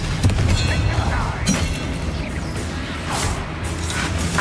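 Spell explosions boom in Hogwarts Legacy combat, a dense, loud, continuous barrage of blasts and impacts layered under shouted voices.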